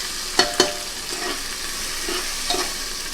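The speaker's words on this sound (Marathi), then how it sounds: "कांदा छान आपल्याला परतवून घ्यायचा आहे।" Finely chopped onion sautéing and being stirred in a pan for chicken biryani, a steady soft sizzle with a few sharp spoon scrapes near the start and lighter stirring clicks later.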